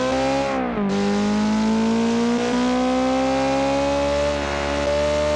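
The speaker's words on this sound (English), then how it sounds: "I'm kind of focusing as I bounce off the red line instead of, you know, changing gear like a normal person" Sports car engine in BeamNG racing on a track, held at the redline and bouncing off the rev limiter instead of shifting; loud, steady harmonic drone with slight pitch dips and a brief drop near the start, no talk.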